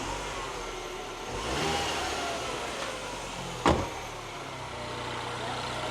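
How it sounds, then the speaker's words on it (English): A rebuilt R56 MINI Cooper S engine, repaired after eight bent valves, runs at a steady low idle close by, with a brief swell and one sharp click partway through. "This is now a nice running engine."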